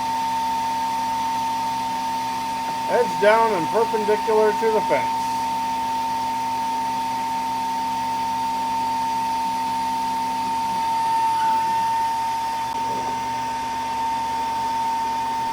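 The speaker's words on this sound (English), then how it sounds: "We plug our spindle in. Turn it on." A CNC router spindle runs at a steady high whine with a constant pitched hum beneath it, close and continuous for the whole stretch, while someone speaks briefly over it near the start.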